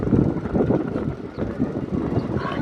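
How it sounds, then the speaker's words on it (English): Low, gusty rumble of wind buffeting the microphone on the Little Island and High Line in New York, rising and falling in bursts without pause. "It's too windy."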